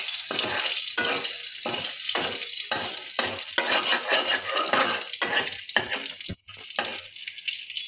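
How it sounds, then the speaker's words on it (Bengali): Chopped green chillies crackle in leftover fish-frying oil in a wok. A bright, constant sizzle is broken by rhythmic stirring strokes, with a brief pause near the end. No one speaks. "লঙ্কা কুচি দিয়ে দিলাম এই মাছ ভাজার তেলটায়।"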